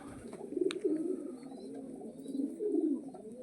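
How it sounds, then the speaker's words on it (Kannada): A flock of about fifty pairs of kept pigeons coos softly and continuously nearby, the low burbling calls overlapping in gentle waves with no talk. "ಪಾರಿವಾಳನ ಐವತ್ತು ಜೊತೆ ಇದಾವೆ ಫ್ರೆಂಡ್ಸ್"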